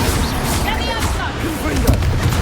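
A Confringo spell blast in Hogwarts Legacy, a short burst of booming impacts and crackles mixed with game sounds, with talk over it.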